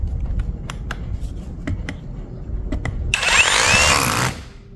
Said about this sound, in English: we're gonna demo it with the hammer drill here on a piece of wood